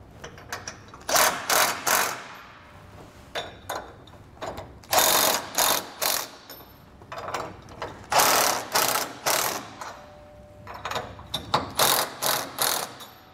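A hand ratchet tightens nuts on a trailer jack mounting plate for an Ark Xtreme off-road tube-mount swivel jack, giving repeated bursts of sharp clicking in short, rhythmic runs with brief pauses, close and loud.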